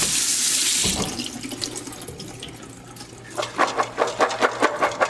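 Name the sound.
tap water rinsing beans in a strainer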